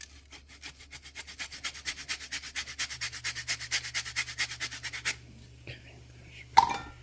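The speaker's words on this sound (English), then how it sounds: "I'm going to add some zest." A lemon is rubbed against a zester for raisin pie filling, giving fast, even rasping strokes that build steadily for about five seconds, then stop. A short clatter follows near the end.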